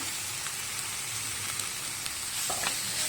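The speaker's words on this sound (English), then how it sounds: "Next we need to add the 2 chopped tomatoes that we have kept aside previously." Chopped tomatoes added to frying masala for a quail egg roast, giving a steady close sizzle with faint crackles and a light stirring scrape near the end.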